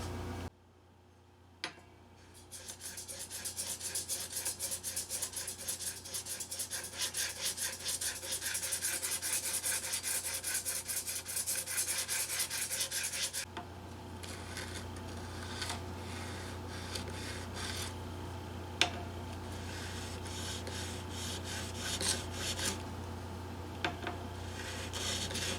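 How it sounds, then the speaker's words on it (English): A worn file scrapes back and forth across guitar frets in quick, close rasping strokes, loud at first and then quieter after midway, with a few sharp ticks and no speech. "think this file's about lost all of its grit"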